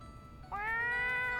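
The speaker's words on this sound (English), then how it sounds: "A kitty!" A cat meows once in an anime scene, a single clear, drawn-out, rising meow that starts sharply and holds to the end, loud and close with no talk over it.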